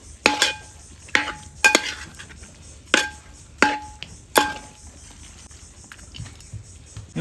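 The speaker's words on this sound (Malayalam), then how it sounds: "ഒരു ഫുള്ള് ചെറുനാരങ്ങ ഒന്ന് മിക്സ് ചെയ്തെടുക്കാം." A spoon stirs lemon juice into chicken biryani in a metal pot, making six or seven sharp, ringing clanks spaced about a second apart, then a few softer scrapes.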